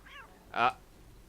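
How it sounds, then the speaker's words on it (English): A single short, loud cat meow rings out in the Coraline video game, preceded by a fainter, higher cry over quiet background hum. "I just think it's great that she's stomping the cat, though."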